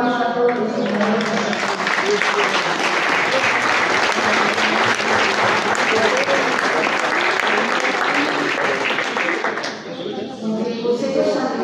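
Long, dense audience applause for the founders of the Colonia Proletaria Rubén Jaramillo, steady clapping that fades near the end as a voice resumes speaking.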